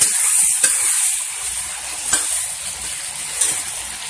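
Liver (kaleji) frying in a masala gravy gives off a loud, continuous hiss, with a few soft stirring scrapes and no talking.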